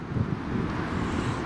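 Strong wind buffets an outdoor microphone on a flooded allotment plot after heavy rain, a steady low rumbling roar with gusty swells throughout and no voices.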